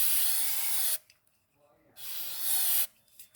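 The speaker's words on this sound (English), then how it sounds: "So he's spraying his cleaner on his chain there a little bit at a time." Chain cleaner sprayed onto the drive chain of a 2010 Triumph Bonneville motorcycle, two close, loud hissing bursts of about a second each separated by a brief quiet gap, with a fainter short spurt at the end.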